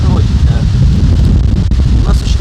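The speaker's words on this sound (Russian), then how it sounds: "У нас очень какие-то ветра сумасшедшие." Strong wind gusts across an open farmstead, a loud rumbling roar with microphone buffeting, while a person talks over it.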